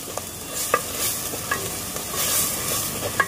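Ground onion and coconut paste stirred in hot oil for green chicken masala: a steady close sizzle with quick scraping strokes of a spoon across the pan every half second or so.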